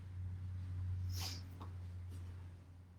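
A dog moves about on the floor near a yoga mat indoors during a morning yoga session, giving a brief snuffling, sniffing burst and a couple of faint soft thumps over a steady low hum, with no talk.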